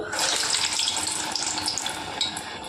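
Urad vada batter fries in hot oil in a home kitchen, a dense, steady hiss and crackle of sizzling that fills the whole moment without a break.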